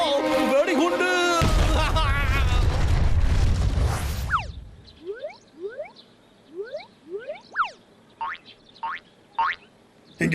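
A cartoon bomb blows up with a loud, long booming blast under an excited voice, then trails off into a run of quick springy boing-like whistles and pops that rise and fall.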